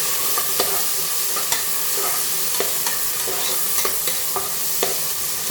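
Onions sauté in hot oil with whole spices such as cardamom for chicken biryani, a continuous sizzle broken by regular spoon scrapes and taps against the pan about once a second.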